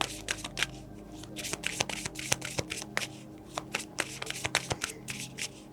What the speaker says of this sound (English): let's take out another card for Gemini.